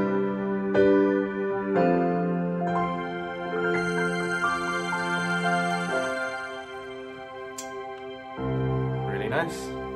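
Roland BK3 backing keyboard playing a layered strings-and-piano sound, sustained chords shifting every second or two with a bright piano attack over string pads, clear and close with no talking.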